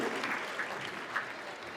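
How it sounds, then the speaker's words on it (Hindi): Audience applause at a Holi Milan celebration, a brief burst of clapping from a crowd, moderately distant and fairly soft. "एक बार जोरदार तालियां आप सभी की तरफ से।"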